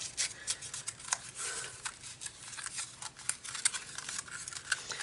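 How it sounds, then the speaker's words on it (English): Quick series of crisp snips as non-fabric scissors cut through ribbon, close by, with rustling between the irregular cuts. "These are not my fabric scissors."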